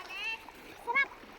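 Someone jumping into a river, a short splash heard amid excited children's voices and shouting.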